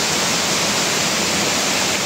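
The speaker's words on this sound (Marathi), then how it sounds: "छान असा मस्त पडतोय धबधबा" A waterfall pours down over large rocks near a cave at Dhumalwadi Waterfall, giving a loud, dense, unbroken roar of rushing water with no voices.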